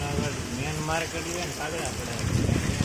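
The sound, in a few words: heavy rain in a market street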